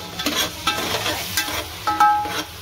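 Onions frying with spices for chicken biryani, a steady close sizzle broken by a few scraping stirs of the pan, with no voices.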